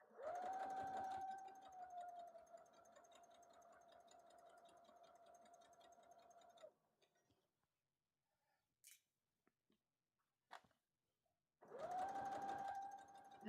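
A sewing machine runs steadily while stitching the seams of a dress, then stops for a few seconds of near silence with small clicks before starting up again near the end.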